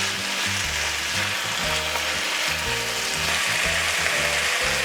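Vegetables such as potato and carrot fry in a pan for a turmeric curry, giving a dense, continuous sizzle close up with rhythmic stirring throughout and no voices.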